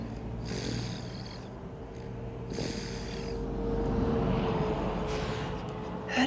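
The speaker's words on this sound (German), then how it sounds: "Hört ihr sie schnarchen?" A sleeping baby snoring softly in a moving car, slow rhythmic breathy snores repeating every couple of seconds over a low steady road rumble, with no talking.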